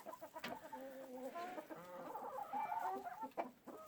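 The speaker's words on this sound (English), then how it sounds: "Look at that silly rooster." A rooster clucks and calls repeatedly in a farmyard coop setting, a steady run of fowl vocalizations close by with no talking.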